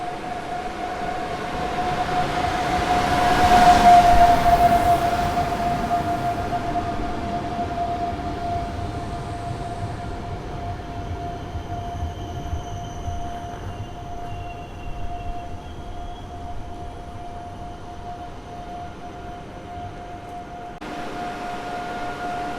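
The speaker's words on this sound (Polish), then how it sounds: "wjeżdża Husarz z pociągiem z Prewa do Berlina" Husarz EU44 electric locomotive hauling a passenger train to Berlin arrives at Warszawa Zachodnia station on a rainy day: a loud rushing rumble swells and fades, under a steady tonal whine, with no talking.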